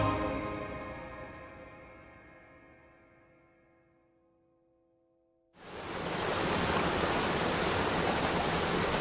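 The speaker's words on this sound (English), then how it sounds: "Scaleber Force Waterfall is located in a small wooded gorge close to Settle." Scaleber Force waterfall in a small wooded gorge near Settle: a fading tonal ring gives way, midway through, to a sudden, steady, loud rush of falling water that carries on to the end.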